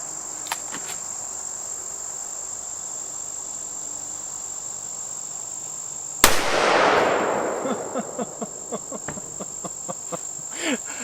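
A single sharp, loud shot from a Smith & Wesson 460 revolver loaded with 454 Casull, cracking out of steady insect chirping outdoors, followed by a brief echoing decay and faint clicks as the crickets continue.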